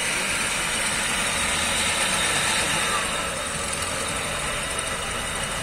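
A 1996 Nissan March with an automatic gearbox and right-hand drive idles with a steady, even engine drone close by, continuous throughout with no clear change.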